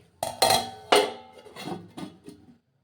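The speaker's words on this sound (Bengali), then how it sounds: "এবার এটাকেও ঢেকে দিতে হবে" A metal lid settles onto a popcorn pot with a few sharp clanks and rattles, two strong hits followed by lighter ringing taps that fade out, close and clear.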